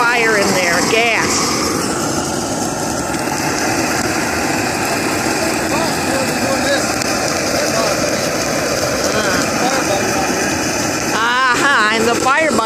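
A gas-fired torch blasts flame into brush piles, a steady loud roaring hiss that continues throughout, with a person talking over it.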